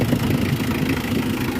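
A 2012 model vehicle's engine idles steadily up close, a continuous low rumbling drone with even vibration and no voices over it.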